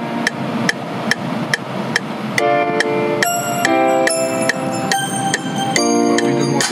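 Sharp metallic ticks keep a steady beat, then ringing bell tones join in, striking on the beat with bright, sustained overtones.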